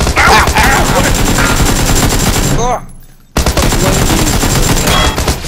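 Rapid automatic gunfire from a Tommy gun and an AKM in the video game PUBG, dense loud bursts with a brief silent gap midway before the firing resumes, a voice briefly under it.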